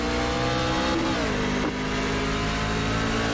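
NASCAR race cars in iRacing roar as they accelerate at the green flag at Kansas, loud engines with rising revs and a gear change, sustained and close.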